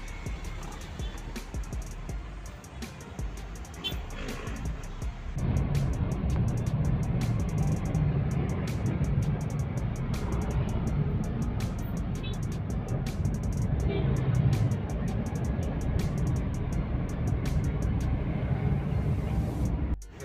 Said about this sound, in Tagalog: Grabe traffic mga tropa.